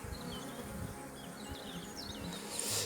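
Hornets buzz inside a nest box, a close, continuous low drone with a few higher wingbeat whines rising and falling, fairly faint overall.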